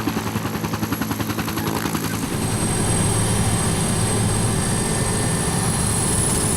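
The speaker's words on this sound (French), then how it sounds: "les Super Pumas décollent pour la dernière fois du terrain d'aviation de Banda Aceh" Several Super Puma helicopters taking off from the airfield at Banda Aceh. A loud, steady rotor and turbine roar fills the clip. Rhythmic blade chopping is clear at first and then merges into a continuous heavy drone.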